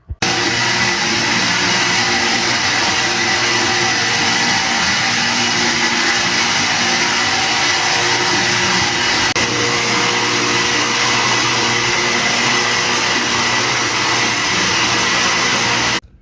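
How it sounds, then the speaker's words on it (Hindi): An electric blender whirs steadily for about sixteen seconds while blending a smoothie of banana, apple and milk. The loud motor runs alone, with no speech. "अब हम इसमें एप्पल ऐड करते हैं, इसमें दूध ऐड करते हैं, तो अच्छे से ब्लेंड कर देते हैं।"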